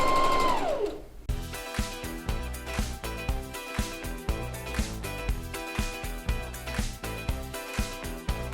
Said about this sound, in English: So starting on one side, back stitching, I'm just stitching in that crease.